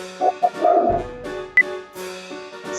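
A dog gives several short barks and yips in irregular bursts, close and fairly loud, with brief quiet gaps and other indoor sounds between them.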